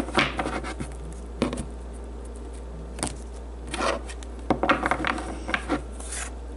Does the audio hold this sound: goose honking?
no